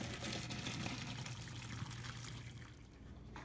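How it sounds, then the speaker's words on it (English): Pasta water pours and splashes out of a pot as the pasta is drained in a home kitchen while making marinara sauce, a steady rushing stream that runs close and continuous, then tapers slightly toward the end. "And this is our pasta right here. I'm going to drain it."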